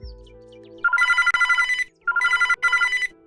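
A cartoon-style telephone rings as a comic dub sound effect, with three bright trilling bursts: one longer ring, then two shorter ones in close succession. Each ring is loud, clear and alone.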